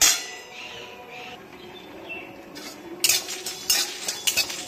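Masala roasting in a pan for instant amla pickle, with a spoon scraping and clinking against the metal under a soft sizzle, growing busier and louder toward the end.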